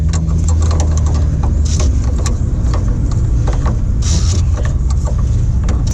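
Metal clicks and scraping taps from a coilover spring perch on a Toyota Celica being adjusted along dirty threads, irregular and close, over a steady low hum.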